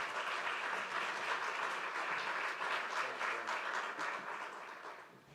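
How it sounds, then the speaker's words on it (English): A conference audience applauds warmly for the Director General of DG Mare, steady dense clapping from a large room that holds level for about five seconds, then eases slightly toward the end. "A warm round of applause for Shalina."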